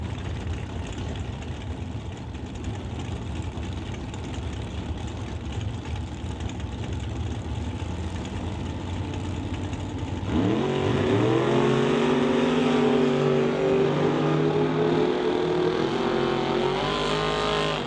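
Camaro drag race cars idle with a rough, rumbling burble at the start line, then one engine revs up sharply and loudly partway through, its pitch climbing and settling.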